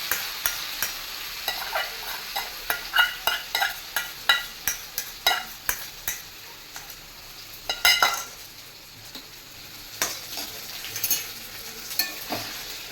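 Chicken and kidney fry in a pot for pulao, with a steady sizzle under repeated scraping and clinking stirring strokes at an uneven rhythm, close by and with no talking.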